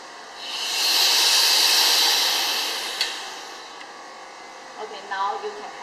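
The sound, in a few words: vacuum release hiss from vacuum emulsifying homogenizer mixer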